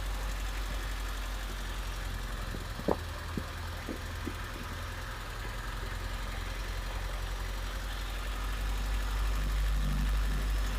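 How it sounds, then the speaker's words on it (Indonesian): Honda Civic Genio (1992–95 model, checked for a cylinder-sensor fault code 9) engine idling with a steady low rumble throughout, a few brief clicks early on, holding loud and even for the whole stretch with no talking. "Nah, setelah itu kita akan hidupkan mesin."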